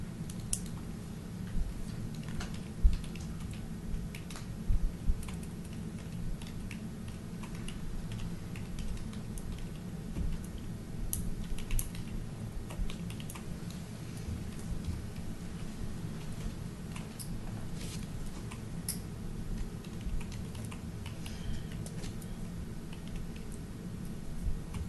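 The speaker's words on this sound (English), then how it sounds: "I'm going to make a bunch of typing errors" Keys clatter on a computer keyboard in a quiet meeting room, with scattered soft clicks and taps running throughout over a low background hum.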